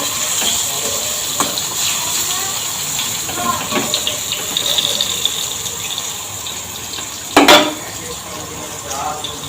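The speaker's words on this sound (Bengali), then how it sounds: "এখানে আমার পটল ভাজা হচ্ছে" Sliced pointed gourd (potol) fries in a pan, giving a steady, moderately loud broadband hiss with a few brief clinks. No one speaks.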